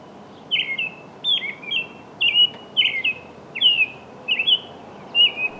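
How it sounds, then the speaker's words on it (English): A robin sings a repeated series of short, clear whistled phrases, about seven in quick succession, bright and fairly close over a soft background hiss. "Studies show that robins often begin singing well before sunrise"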